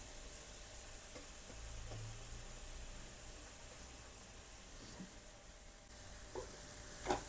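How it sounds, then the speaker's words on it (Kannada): Chopped carrots and beans fry quietly in a pan under a soft, steady sizzle, with occasional stirring clinks and scrapes toward the end. "ಈಗ ಎಲ್ಲ ವೆಜಿಟೇಬಲ್ಲು ಸ್ವಲ್ಪ ಒಂದು 3/4 ಭಾಗ ಬೇಯುವಷ್ಟು ನಾವು ಇದನ್ನು ಫ್ರೈ ಮಾಡಿ ಇಟ್ಕೋಬೇಕು"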